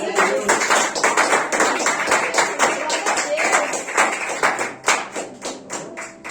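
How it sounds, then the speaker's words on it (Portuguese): Church congregation clapping at a prayer service, a dense steady run of hand claps all through, loud and close with a faint murmur of voices beneath. "As palmas logo ao Senhor."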